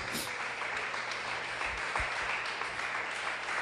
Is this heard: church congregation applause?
yes